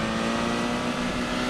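Sustained engine drone of an IMSA DPi prototype race car in the rFactor 2 racing sim, a steady hum with a fixed pitch and no gear changes, holding at constant level throughout.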